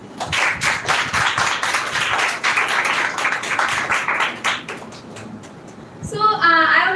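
An audience at an education event's grand finale breaks into steady applause, many hands clapping together in a dense, loud burst that carries for several seconds before thinning out, with a voice speaking near the end.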